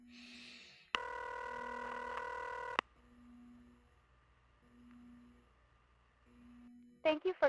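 A telephone rings in The X-Files video game with loud sustained electronic rings, each followed by a pause and a repeating low tone, then a few sharp dial beeps at the end.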